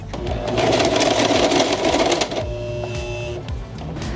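Sewing machine stitching through bedsheet fabric while thread tension is being tested, a loud steady mechanical whir for over two seconds, then a quieter, lighter running hum with a brief hitch near the end.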